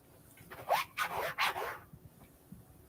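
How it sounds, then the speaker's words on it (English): A foot rubbing against a couch, three quick scraping swishes in a row, close and fairly loud, resembling a zipper. "No, that was my foot rubbing the couch."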